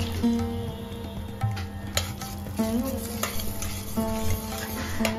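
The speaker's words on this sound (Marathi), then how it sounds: "तूप गरम झालं की ड्रायफ्रुट्स घालूया।" Dry fruits fry in hot ghee in a kadhai while a spoon stirs them, giving a steady close sizzle with repeated clinks and scrapes against the metal pan.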